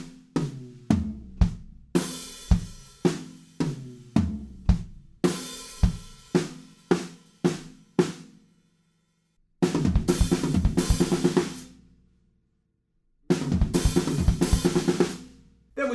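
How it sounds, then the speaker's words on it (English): A drum kit plays a slow fill from a song, with rapid kick drum hits, ticking hi-hats and sharp snare strokes in clipped, evenly spaced bursts separated by short pauses, loud and alone. "It's got kick drums filling in pretty much every 16th note"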